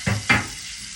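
French toast sizzling in a pan, two quick bursts of frying hiss as pieces drop in, settling into a steady soft sizzle.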